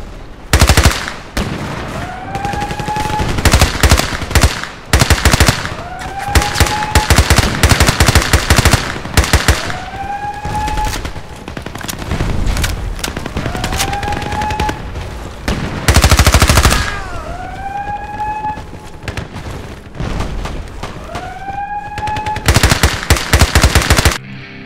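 An MP5 submachine gun fires in a video game in repeated rapid bursts, loud and close, each burst followed by a rising mechanical reload or bolt tone before the next volley.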